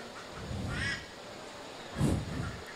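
Ducks at an outdoor working sheepdog demonstration quack in a couple of short bursts, moderately close, over a low background murmur.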